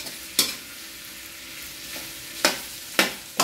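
Meat and shrimp stirred in a hot pan for pansit bihon: a low steady sizzle with four sharp scraping stir strokes, close and moderately loud, no voices.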